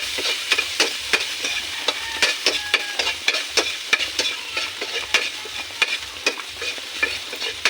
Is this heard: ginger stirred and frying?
yes